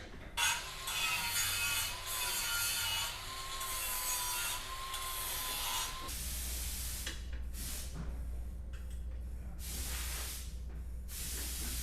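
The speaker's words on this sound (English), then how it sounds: "now we're going to use a grinder wheel and soften the edges so there's no sharp edges" An angle grinder wheel smoothing the edges of a steel front bumper bracket for a 2019+ Mercedes Sprinter, a steady close grinding hiss with a whining tone that drops to a lower rumble halfway, then intermittent contact bursts.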